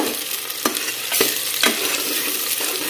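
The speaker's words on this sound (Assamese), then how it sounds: "এতিয়া পিয়াজখিনি এনেকৈ অকণ অকণ ৰঙচুৱা হোৱালৈকে ভাজি লম" Onions sizzle steadily in a hot pan, with a few sharp scraping clicks as they are stirred. The frying is close and fairly loud.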